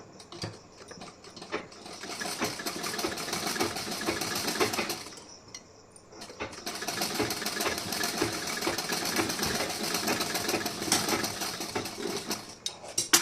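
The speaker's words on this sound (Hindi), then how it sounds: "अब यहाँ पे मैं जहाँ से स्टिचिंग छोड़ी थी वहीं से मैं स्टिचिंग करना शुरू कर दूँगी इस पर" Sewing machine stitching a blouse, a fast clattering mechanical run that pauses briefly around midway, then resumes steadily, close and continuous.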